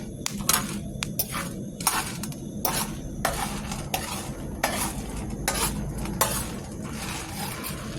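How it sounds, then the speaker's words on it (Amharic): Coffee beans being roasted in an iron pan, stirred constantly so the beans rattle and scrape against the metal in quick repeated bursts over a soft background hiss. "እያቻት ብረት ምጣድ ያለችኝ እዚህ ጋር እየቆላሁ ነው ማለት ነው"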